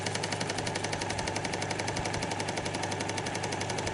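Oval woodturning chuck spinning on a lathe after adjustment, giving a fast, steady, mechanical clicking rattle from slight looseness, loud and continuous throughout.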